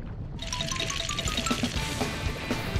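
Water jets from Marshall, a firefighting pup in Paw Patrol Mighty Pups, gushing in a steady pouring spray that starts abruptly and runs on under light game chimes.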